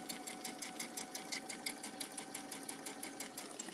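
A domestic sewing machine stitches back and forth along a pillow seam on a star-shaped cuddle pillow, a steady rapid mechanical whir with regular needle pulses, close and continuous with no talking.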